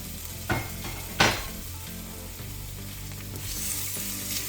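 Garlic cloves frying in oil for garlic oil, a steady soft sizzle with two sharp spoon scrapes against the pan early on, close and fairly quiet, no speech.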